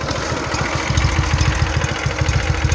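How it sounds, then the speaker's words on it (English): A Simplicity Sunstar 20 garden tractor engine idles steadily nearby, a close, even low putter with a regular pulsing rhythm and no talk over it. "Right now, I have it idling, as you can tell."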